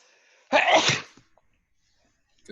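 A single loud sneeze bursts out close by, followed by near silence with a few faint rustles.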